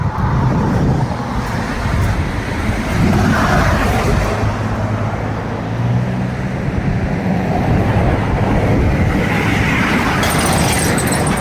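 Passing cars on a neighborhood road make a continuous low roar of tires and engines, swelling as vehicles go by close and loud, with no talking over it.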